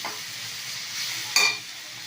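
Tomatoes sprinkled with salt sauté in a pan with a soft continuous sizzle, and a brief louder scrape of a stirring spoon partway through, close and without speech.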